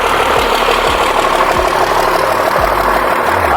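A Cummins diesel-swapped Chevy C10 engine is held under powerbraking, producing a loud, dense, rough mechanical roar with a few repeated low throbs as the load builds, close and steady with no talking.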